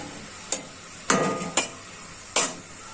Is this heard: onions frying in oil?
yes